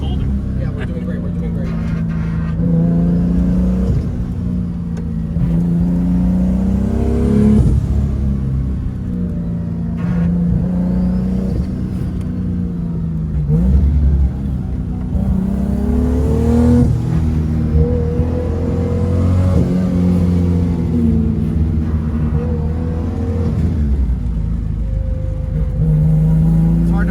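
Big-turbo cammed Toyota Supra 2JZGTE running on E85 on a twisty mountain road, a loud in-cabin engine rumble rising and falling through repeated revs and accelerations, with occupants talking over it.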